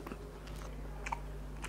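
Someone eating a mouthful of Assam-style fish curry, with soft close chewing and a few small crunches over a low steady background hum.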